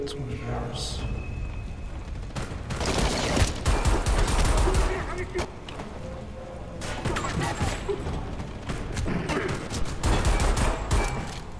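Heavy bursts of automatic gunfire and booming impacts in Homefront The Revolution, coming in loud clustered volleys separated by quieter stretches, with someone talking over parts of it.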